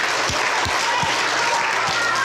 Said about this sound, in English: give me 6 claps.